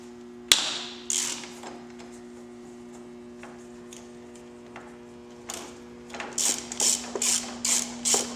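Ratchet wrench loosening a bolt on a motorcycle during a front air-ride install: a sharp snap, then a quiet stretch before a rapid run of close, crisp ratcheting clicks in short bursts, with no talking.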